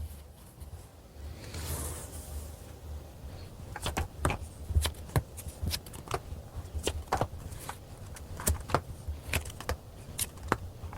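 Tarot cards being shuffled and drawn at a reading table: a soft rustling swish, then a run of sharp, close card snaps and flicks at an irregular rhythm, fairly quiet and without voices.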